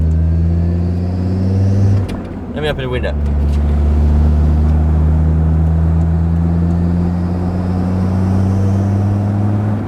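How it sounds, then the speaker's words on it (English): Land Rover Discovery 2 engine with a loose exhaust manifold, a steady loud drone with low tones throughout, with a brief break near the start while someone speaks. "That exhaust manifold is hanging off, I can hear it."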